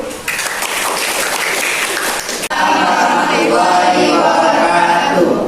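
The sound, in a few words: audience applause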